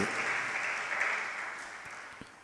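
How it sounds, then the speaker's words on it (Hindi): An audience claps together at a sermon, a dense, steady burst of applause that slowly fades, with a few last scattered claps. "आपने ताली क्यों बजाई"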